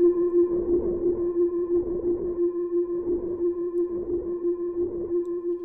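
A steady buzzing synth tone made in FL Studio with added noise, a gritty texture and a slow pulsing rhythm, holding at an even, fairly loud level.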